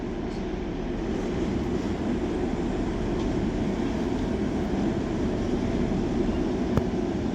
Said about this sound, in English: Now passing through is going to be our first freight train of today with some double-headed Class